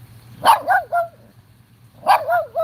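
A dog barks in two short bursts of three or four sharp, close, loud barks, separated by a quiet pause, with a low steady hum underneath.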